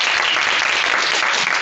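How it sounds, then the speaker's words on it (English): Brief burst of audience clapping in a seminar room welcoming a guest lecturer, dense and fairly close, continuous throughout with no talk over it. "Thanks for the clapping."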